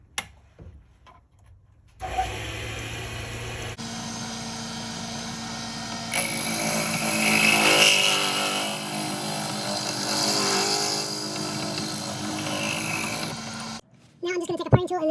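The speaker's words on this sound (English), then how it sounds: "Now we'll just drill out the inside." A power drill whirs steadily for several seconds, rising and grinding as it bores out the inside of a segmented pen blank, starting and stopping abruptly with quiet moments at either end.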